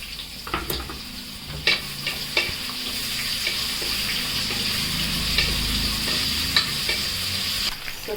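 Cashews fry in hot oil in a pan, a continuous close sizzle broken by sharp stirring clinks and scrapes, with no voices.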